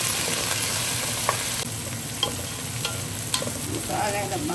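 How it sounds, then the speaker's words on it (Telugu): Mint and fenugreek leaves frying in a pan, giving a steady close sizzle with occasional stirring scrapes and light taps. "పచ్చివాసన పోయేంత వరకు ఇలా వేయించుకున్నాం కదా"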